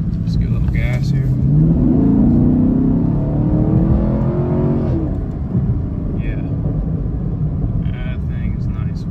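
A Chevrolet Camaro SS with a 10-speed transmission accelerates onto a main road, its engine note rising in a loud climbing pull heard from inside, then easing off into a quieter cruise with faint background sounds.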